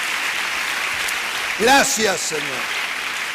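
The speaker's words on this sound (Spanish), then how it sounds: "Denle otro aplauso al Señor" Steady applause from a congregation during a church service continues as a backdrop while someone speaks briefly over it.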